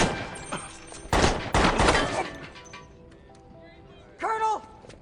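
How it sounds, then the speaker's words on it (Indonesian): Gunshots fire as Winter shoots Irwin in the back while he raises a flag, two loud bursts close together followed later by a shorter sharp report. "Winter mengambil tindakan nekat dengan menembak punggung Irwin saat pria itu mulai mengibarkan bendera"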